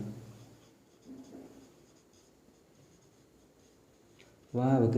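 Quiet scratching of chalk or marker on a board as a chemistry definition is written, soft intermittent strokes, then a voice starts talking near the end.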